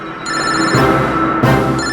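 A telephone rings loudly and close by, a bright electronic trill in two bursts over a couple of seconds, with no talking.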